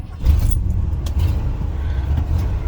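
A 1983 Ford F100 pickup with a 302 V8 idles with a deep, loud, continuous rumble just after starting, while keys jangle faintly and briefly near the ignition.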